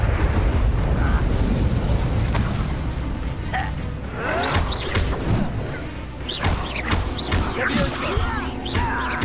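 The Incendio fire spell is cast during a combat fight in Hogwarts Legacy on PS5, a loud, dense burst of fiery magical blasts and crashing impacts layered over continuous battle noise.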